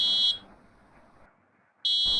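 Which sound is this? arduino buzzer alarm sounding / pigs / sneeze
arduino buzzer alarm sounding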